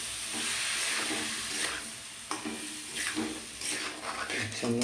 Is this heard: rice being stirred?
yes